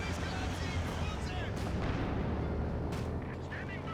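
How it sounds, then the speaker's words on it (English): An incendiary artillery barrage in the Company of Heroes 2 video game, a dense, continuous rumble of booms and crackling explosions throughout, with brief voice-like sounds mixed in. "Plus also there's also the incendiary barrage as well."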